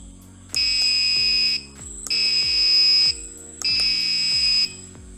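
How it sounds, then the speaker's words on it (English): A vehicle horn sounds three times as steady, shrill electronic tones, each lasting about a second, with short gaps and a faint pulsing hum underneath. "This is the normal sound of the horn."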